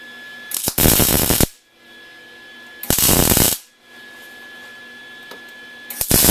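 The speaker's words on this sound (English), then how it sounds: "we're going to line up and weld off our axles" Axles are welded onto a steel log lever in three short buzzing arc-welding bursts, each about a second long, separated by quiet pauses with a faint background hum.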